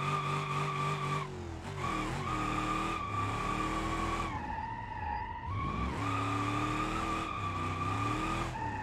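In the BeamNG driving game, a drift car's engine wails loudly through shifting revs while tires squeal and skid in long sweeping bursts, close and continuous with brief dips between slides.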